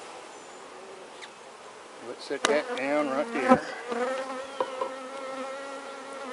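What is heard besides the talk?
Italian honey bees buzzing in a package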